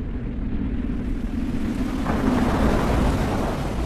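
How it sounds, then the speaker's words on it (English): Monsoon downpour in high mountain jungle, a steady heavy roar of rain with a deep rumble of thunder swelling partway through, continuous and enveloping. "up in the mountains, two vertical miles higher, the jungle monsoon arrives."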